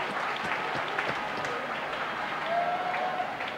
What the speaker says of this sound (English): give Jesus a clap of it